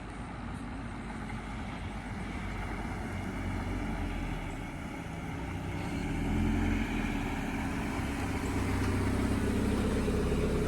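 A 1993 Mazda Miata engine idles steadily nearby, a smooth continuous low hum that grows slightly louder and rougher about halfway through, with no voices.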